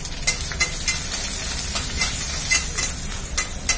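Garlic, asafoetida and ajwain sautéing in hot oil in a pan with a little urad dal, a steady close sizzle broken by the scrape and clatter of stirring, loud with no voices.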